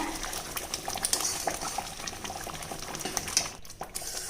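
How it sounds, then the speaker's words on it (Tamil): Thick tamarind gravy for puliyogare bubbling and spluttering in a pan on high flame after salt goes in, soft irregular pops and plops close by with a faint scrape of a utensil, no voices. "உப்பு சேர்த்ததுக்கப்புறமா இப்போ கொஞ்சம் சட்டியில் எல்லாமே இந்த மாதிரி ஓரத்தில் எல்லாமே வெளியில் கூட கொஞ்சம் தெறிக்க ஆரம்பிக்குதுங்க"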